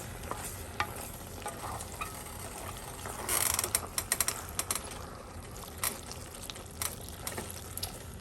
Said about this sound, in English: I've added my noodles, elbow noodles to my cream, and as you can see, I'm giving it a stir